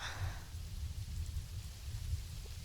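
Steady rainfall in the Planet Zoo video game, a constant even hiss of falling rain heard alone at moderate level with no talking.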